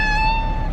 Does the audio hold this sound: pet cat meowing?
yes